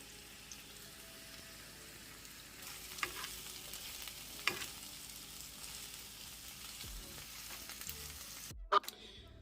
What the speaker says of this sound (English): And then we're going to saute these for about 2 minutes.